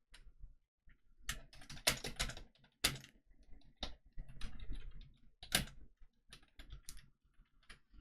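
Quiet keystrokes on a computer keyboard as a company name is entered into a construction document management web app, irregular bursts of clicky taps with short pauses.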